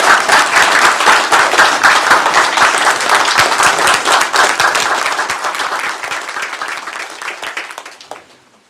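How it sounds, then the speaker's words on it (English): Audience at a Calera city council meeting breaks into a loud, sustained round of applause, dense clapping that holds steady before thinning and fading out near the end. "let's give Connie a round of applause."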